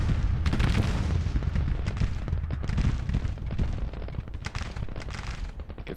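Grand Tactician: The Civil War battle at Missionary Ridge, 1863: dense overlapping rifle volleys and booming artillery, a continuous rumbling barrage of cracks and thuds, loud and busy throughout with no talk.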